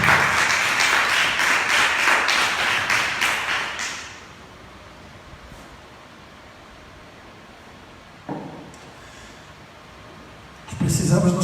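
A church congregation claps for Saint Agatha during a sermon: a dense burst of applause for about four seconds that stops abruptly, followed by quiet room tone with a couple of faint knocks.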